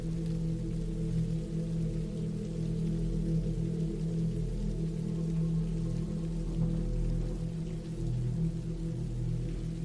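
Steady rain falls without a break for the whole stretch, an even, constant patter blended with a low, droning background hum and no voices.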